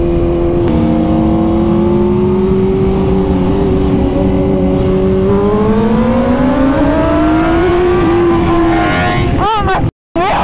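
A BMW S1000RR motorcycle engine pulls hard in 2nd gear, a loud, close, steady droning whine whose pitch climbs across the pass before cutting off abruptly at the end.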